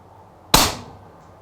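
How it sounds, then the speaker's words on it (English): A single sharp air rifle shot from a Daystate Huntsman Revere 30 foot-pound rifle cracks out loud and close, then decays briefly against quiet outdoor background. "A 30 foot-pound air rifle, 90 meters, just insane."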